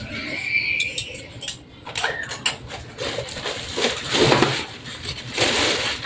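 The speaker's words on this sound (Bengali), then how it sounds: "এই প্লেটগুলো সব বাইর করতেছি, একটা একটা করে জিনিস করতেছি" Plates are taken out one by one and handled in a home kitchen, giving irregular light clinks, taps and scraping clatters at close range with brief quiet gaps between them.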